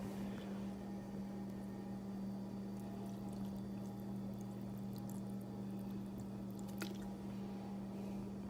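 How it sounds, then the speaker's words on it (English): Water pours onto a bamboo hemp cloth flat diaper, a faint, steady trickle and soft squishing over a constant low background hum, with no one speaking. "and then we'll start pouring."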